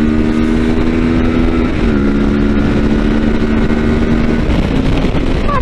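A Kawasaki Versys 650 motorcycle engine drones loudly and close, its pitch holding steady then dipping and rising again as it accelerates, with constant wind rush over it.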